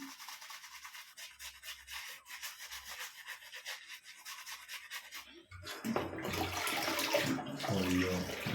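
Tap water runs over the tips of a shaving brush at a sink, a soft trickle and rubbing that turns into a louder, fuller gush of running water about halfway through.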